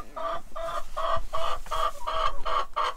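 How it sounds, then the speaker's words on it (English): Chickens cluck in a rhythmic series of close, repeated calls, about eight evenly spaced bursts, inside a warm shed on a snowy day. "these chickens are gonna be in here most of the day"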